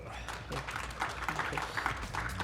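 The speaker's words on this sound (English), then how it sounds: "please give a round of applause to Lisa Watts" An audience claps for a guest speaker, a brief burst of steady, moderately quiet applause with overlapping hand claps.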